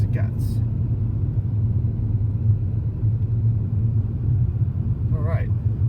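A 2007 Audi A3 five-door with the 2.0 TDI turbo diesel engine and six-speed manual, 85,000 miles, idles in a steady low, even rumble, loud and close, with brief faint chirps near the start and end.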